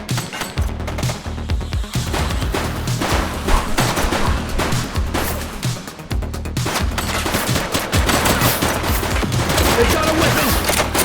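Sustained bursts of gunfire from a police shootout in the video game The Precinct, loud and dense rapid volleys running almost continuously with a low rumble beneath.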